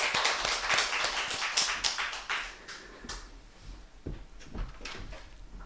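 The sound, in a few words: congregation applauding in church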